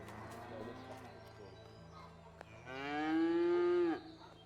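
A cow in the video game A Way Out gives a long, loud, tonal moo in the second half, preceded by softer lowing over a steady low hum.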